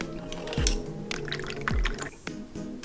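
Water drips into a ceramic well of watercolor paints with a couple of distinct liquid plops and splashes, close and moderately loud, amid small clinks and trickles.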